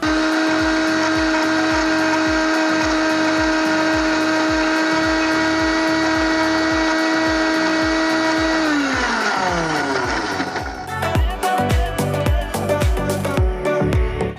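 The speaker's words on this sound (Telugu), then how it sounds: "ఫస్ట్ మనం మిక్సీ చేసుకుందాం." Electric mixer grinder blending cashews, onions and tomato, a loud steady whirring whine with rhythmic chopping pulses that shifts pitch and turns choppy as the motor stops and restarts near the end.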